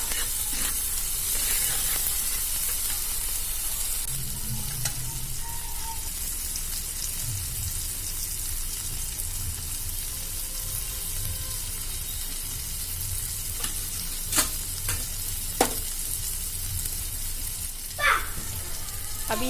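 Food frying in a pan on the stove, a continuous hissing sizzle close by with a few scraping and tapping sounds, some faint background noise.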